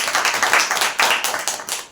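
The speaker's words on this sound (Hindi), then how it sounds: "एक जोरदार ताली।" A church congregation at a Wednesday service clapping loudly together, a dense burst of rapid hand claps filling two seconds with no talking.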